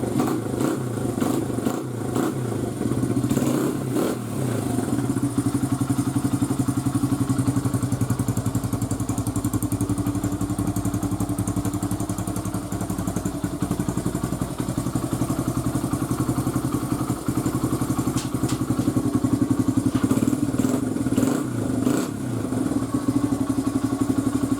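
A rebuilt 2002 Honda XR100 dirt bike engine runs close by at a steady idle, its single-cylinder thump and mechanical clatter continuing evenly throughout with slight swells in revs.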